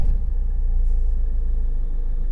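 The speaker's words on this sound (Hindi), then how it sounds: "तो हम गाड़ी स्टार्ट करते हैं, चेक करते हैं हमारा ये लाइट जो था वो ऑटोमेटिक जाता है कि नहीं" Tata Harrier SUV with its engine running just after starting, a steady low idle rumble that holds close and even throughout with no speech.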